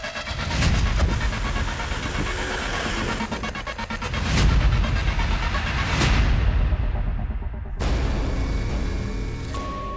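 A motorbike engine roars loudly and continuously during a police chase in a crime drama, with heavy booming hits and a sudden cut partway through before the revving continues.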